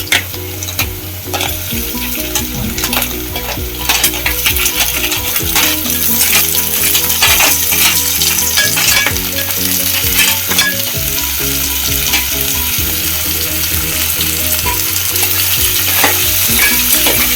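Cleaned crabs fry loudly with browned onions for a Malvani crab curry, a dense continuous sizzle broken by frequent sharp clinks and scrapes of stirring, close and steady throughout with no talk.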